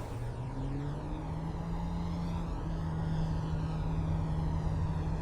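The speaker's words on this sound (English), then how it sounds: "I don't like how this Twin Otter freaking looks like it's gonna tip over. Alright, and full throttling." Twin Otter turboprop engines at full throttle in Microsoft Flight Simulator 2024 give a steady, droning roar with a rising tonal hum, continuous and fairly close throughout.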